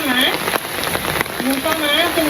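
Rain falls in a steady dense patter while faint tonal calls or whistling sounds rise and fall over it.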